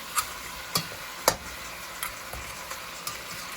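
Oxtail browning in a pot over medium heat for a Jamaican dish, a faint steady sizzle broken by a few sharp pops and ticks of spattering fat, with no talk.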